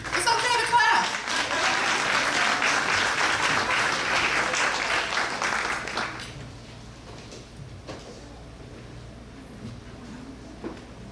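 Graduation ceremony audience applauds in a large hall, a full crowd clapping steadily for several seconds before fading to scattered claps and room murmur.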